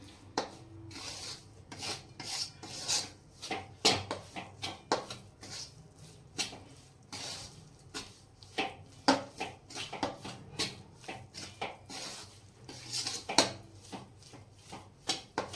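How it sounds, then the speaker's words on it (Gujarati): Flour roasts on low heat in a pan for methi pak, with a quiet, steady rhythm of scraping and rubbing strokes as it is stirred. "ધીમા તાપે લોટ સરસ આપણે શેકાવા દઈશું"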